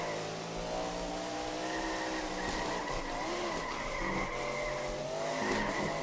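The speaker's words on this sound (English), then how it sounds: "I can hear the engine" A race car in the iRacing sim screams past with rising and falling engine pitch and tire squeal, loud and close, a second car's engine weaving through the mix.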